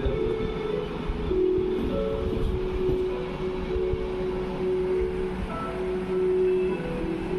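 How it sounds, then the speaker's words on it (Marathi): A vehicle rumbles past with a steady low drone and engine hum, fairly close and continuous throughout, no voices present. "गाडीचा आवाज."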